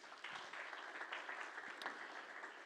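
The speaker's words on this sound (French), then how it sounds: "On peut applaudir Freddy." Audience applause at a French church service, a steady dense wash of many hands clapping that holds for the whole stretch at moderate distance, with no talk over it.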